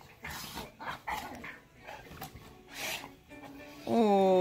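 A dog whimpers and gives short bark-like vocal sounds close by, ending in a louder sustained whine, with people talking affectionately over it.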